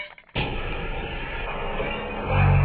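A grenade detonates in the video game Escape From Tarkov, a sudden heavy boom after a brief quiet moment, then a sustained rumbling roar that swells slightly toward the end.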